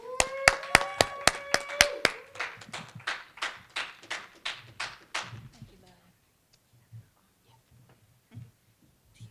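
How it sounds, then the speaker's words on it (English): Clapping for panelists at a health conference session, loud and fairly rhythmic at first, then thinning and fading out after about six seconds into near quiet with a few faint scattered sounds. "Please give everyone a round of applause"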